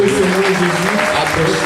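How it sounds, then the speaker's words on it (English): A congregation at a Sunday service in Dominion Cathedral, Lome, Togo, claps steadily and loudly, a dense sustained wash of hands with voices mixed underneath. "I want you to clap for Jesus for what you're doing."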